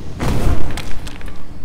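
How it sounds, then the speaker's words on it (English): A mega fireball blows up in Blade and Sorcery, a loud booming blast with a heavy low thud at the start, then a rumbling tail with a few crackling bursts fading out. "Mega fireball."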